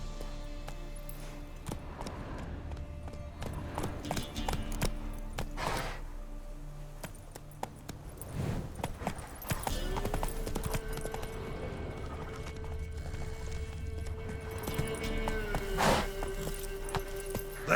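Roach the horse's hooves clip-clop at a walk in The Witcher 3 on PS5 Pro, a steady, fairly close plodding rhythm over a continuous game-world ambience, with a low sustained tone joining partway through.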